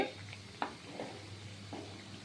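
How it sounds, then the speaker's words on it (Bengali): Egg pakoras fry in a little oil while being turned, giving a faint, soft sizzle broken by a few brief scraping knocks of a utensil in the pan. "অল্প তেল দিলে ঘুরিয়ে ঘুরিয়ে ঘুরিয়ে ঘুরিয়ে এইভাবে ভাজতে হবে"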